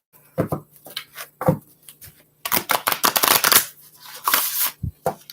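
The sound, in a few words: shuffling stiff new cards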